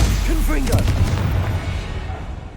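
Spell explosions from Bombarda and Confringo in Hogwarts Legacy, loud booming blasts filling the whole clip with rumbling low end, with a character's voice briefly heard over the start.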